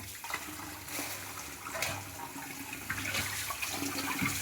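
Pieces of country chicken are washed by hand in water, giving a steady run of splashing and sloshing with a few louder swishes, close by and with no talk.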